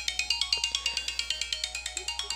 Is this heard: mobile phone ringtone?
yes